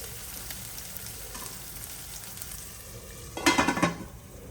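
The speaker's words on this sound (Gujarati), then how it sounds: "હવે તુવેરના દાણા સડી જાય ત્યાં લગી આપણે ચડવા દેવાનું છે તેલમાં અને ધીમા ગેસે ઢાંકીને" Pigeon pea beans cook in oil in a covered pan over low heat, giving a soft steady sizzle, with a brief louder burst of clatter or crackle near the end.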